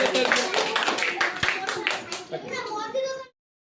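Schoolchildren at a government primary school clap together in a burst of quick, uneven claps that fades out after about three seconds, with children's voices mixed in.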